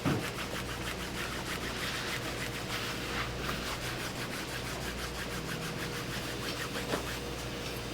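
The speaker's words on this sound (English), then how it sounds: "if you can just rub this till it gets hot, it'll really shine up nice" A leather saddle is rubbed briskly by hand to bring up a shine, a steady, rhythmic back-and-forth friction sound close up, with no voices.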